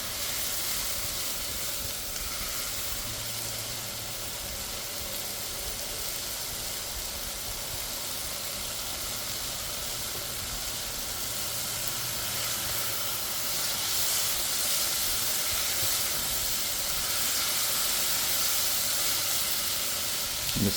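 Onions frying in a pan over high heat, a steady broadband sizzle and hiss running unbroken and fairly loud throughout, swelling slightly toward the end.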